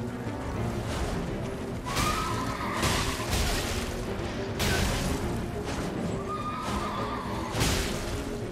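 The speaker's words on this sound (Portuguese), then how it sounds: "Ele invoca o cavalo de novo." Horse summoned in the video game Elden Ring, loud whinnying neighs repeated over a dense battle din with crashes and swooshes, no talk.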